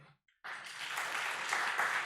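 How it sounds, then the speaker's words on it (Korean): Church congregation bursts into applause after a short silence, many hands clapping in a steady, full wash that holds at an even level, following a brief bit of speech at the start. "박수 한번 쳐주세요."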